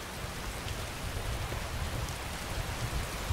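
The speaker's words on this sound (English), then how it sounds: "And now it's raining." Steady rain falls in the video game Skyrim, an even hiss of drops with no break or change in loudness throughout.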